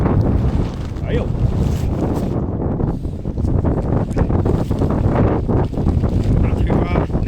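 Strong gusting wind on a snowy mountain pass buffets the microphone in loud, rumbling roars while a tent's inner and outer layers are rolled up, with fabric flapping and rustling through the blasts.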